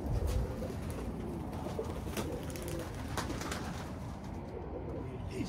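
Tumbler pigeons coo softly at a loft, a few low murmuring calls over an ongoing background of rustle and faint activity, distant voices barely present.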